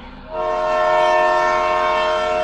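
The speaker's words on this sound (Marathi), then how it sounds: "लोकलचा तो कर्णकर्कश हॉर्न बरोबर ऐकू आला" A loud train horn blares, starting after a brief low rumble and holding a steady, harsh tone to the end.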